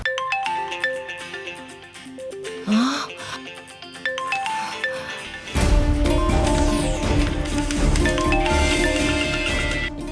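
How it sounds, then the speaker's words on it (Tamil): A mobile phone ringtone for an incoming call plays as a steady melodic electronic tune, loud and continuous, joined halfway through by a fuller, brighter burst of the ringing melody, in a Tamil television serial scene. "இந்த திரி எதுக்கு ஃபோன் பண்றான்னு தெரியலையே."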